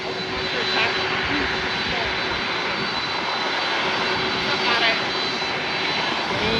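Sustained roar of a Delta Air Lines Boeing 767-300ER's jet engines at San Juan airport, a broad steady rumble with a faint whining tone, someone talking beneath it.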